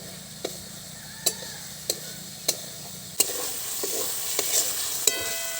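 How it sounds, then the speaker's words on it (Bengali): Ridge gourd being stirred into a spice masala in a pan, with a steady sizzle and a series of sharp spatula scrapes and knocks at a regular pace, close and fairly quiet. "মশলা বিলেতি কষে নিয়েছি, ঝিঙ্গাগুলো দিয়ে দেবো।"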